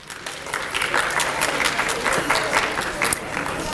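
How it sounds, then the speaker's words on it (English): Sustained applause from a school audience at a literacy event honoring Veterans Memorial Middle School students, a dense steady wash of many hands clapping with crowd murmur mixed in. "Let's give one more round of applause to Veterans Memorial Middle School."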